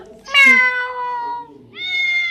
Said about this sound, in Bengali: এই যে বড় ম্যাও, ওটা ছোট ম্যাও।